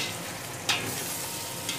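A spoon stirs spices in a pot for beef yakhni pulao, a steady sizzling wash with a couple of brief scraping accents, close and fairly loud.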